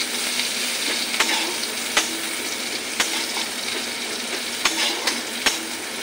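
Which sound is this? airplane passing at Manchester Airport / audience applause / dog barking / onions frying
onions frying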